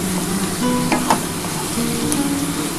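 A spice paste made with onion sautéing in a pan for a lentil fritter curry, an even crackling sizzle with light scraping from stirring, close and steady with no one speaking.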